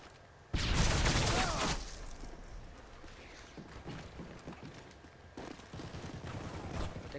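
Gunfire in Call of Duty MW3, a loud burst of automatic fire lasting about a second followed by scattered quieter shots and more bursts further off, with no talking.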